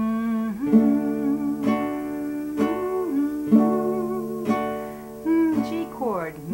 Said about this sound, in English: Strum, brush, brush, strum, brush, brush. Starts on a D.